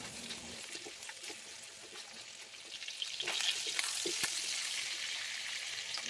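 Pork sizzles and fries in its own rendered fat in a pan as salt and ground black pepper go in for adobo, a steady broadband hiss with occasional stirring clatter, growing slightly louder midway.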